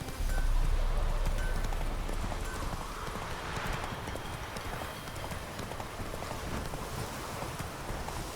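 Roach the horse's hooves clip-clop steadily at a brisk pace in The Witcher 3, a continuous close rhythm with a low rumble and breezy wind beneath.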